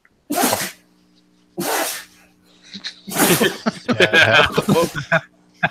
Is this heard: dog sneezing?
yes